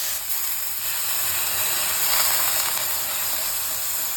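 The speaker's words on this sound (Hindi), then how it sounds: "देख रहे हो ये जो सिजल जैसे हो रहा है" Soaked poha sizzles loudly and steadily in a hot pan, a bright, continuous hiss with small crackles running throughout, close and alone.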